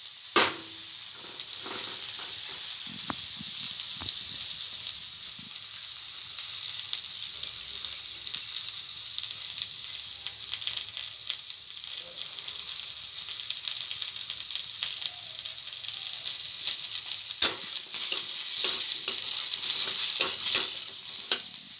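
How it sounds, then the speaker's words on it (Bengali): Eggplant pieces fry in oil in a wok with a steady, bright sizzling hiss throughout, punctuated by occasional stirring clicks and crackles, close and fairly loud with no talking. "বেগুনটা ভাজা হয়ে গেছে"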